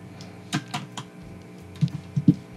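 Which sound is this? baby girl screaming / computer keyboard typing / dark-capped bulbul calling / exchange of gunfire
computer keyboard typing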